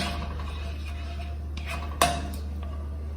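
A metal spoon scrapes and knocks against a pot while tomato pulao is stirred, a few light clinks with one sharper ring, over a steady low hum.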